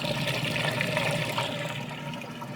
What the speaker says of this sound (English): draining the water out nice and fast